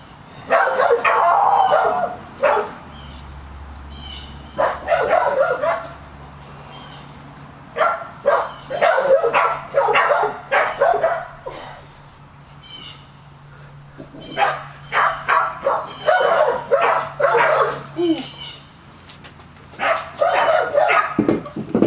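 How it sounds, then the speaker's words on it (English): Dogs bark in repeated loud bursts of sharp barks and yips, with pauses between volleys, near the mic in a home workout space. "Fucking dogs."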